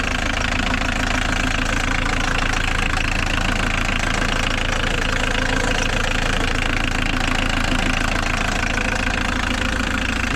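A Fiat 125p fitted with a diesel engine idles with a loud, steady clatter, the knocking rhythm continuous and close throughout, with no talking.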